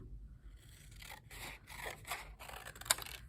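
Scissors cut through a paper plate for a dragon craft, giving a series of soft, close crunching snips and scrapes in an uneven rhythm, fairly quiet, with no talking.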